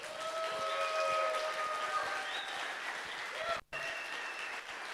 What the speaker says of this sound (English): So I want like huge applause for like base guys